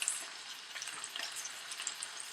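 Chicken pieces frying skin side down in a hot pan, a bright, crackling sizzle with scattered sharp pops, steady and close.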